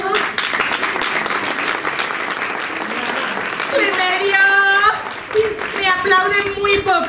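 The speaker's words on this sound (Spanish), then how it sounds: "Aplauden muy poco" A theatre audience applauds at an escape-room theatre show, steady clapping throughout while a voice speaks over it and sung or musical tones rise in the second half.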